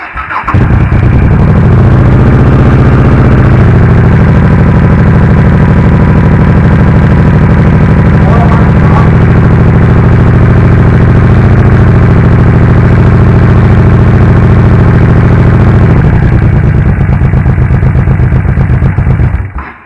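A 1994 Honda VT1100 Shadow V-twin motorcycle starts and idles close by, a loud, steady, deep rumbling throb that holds evenly for most of the span before settling down near the end.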